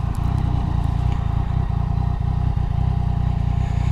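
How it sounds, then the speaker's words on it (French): A Yamaha MT-09 motorcycle engine drones steadily at close range throughout, a loud, continuous low rumble with a faint rattle over the top. "je me balade en moto"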